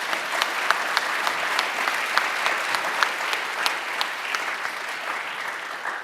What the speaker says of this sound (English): Let's give all of our session 2 speakers a round of applause.